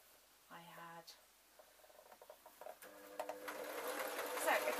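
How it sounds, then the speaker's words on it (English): A home sewing machine stitching elastic onto a baby outfit made from a pillowcase runs in a quick, building chatter, starting softly and growing louder and more continuous, with a brief voice early on. "elastic is under my thumbnail, and I am just literally sewing along"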